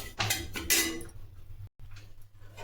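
Semolina for sheera roasts in a pan while a metal spoon stirs it, making a few bright clinks and scraping knocks against the pan over a low background.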